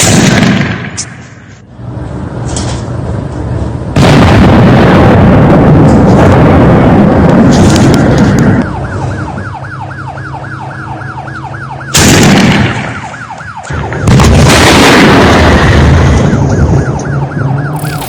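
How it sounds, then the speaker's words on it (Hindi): A blast at Iran's aerospace headquarters roars with heavy, loud rumbling booms and sustained broadband thunder, briefly easing before surging again, with a wailing, siren-like tone running beneath. "ईरान के एरोस्पेस के हेडक्वार्टर पर धमाके की खबर है"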